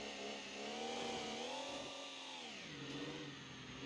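An inline-six diesel engine in BeamNG.Drive revs with a buzzy, harmonic-rich drone that rises, wavers and dips in pitch over a few seconds, heard close and alone at moderate level.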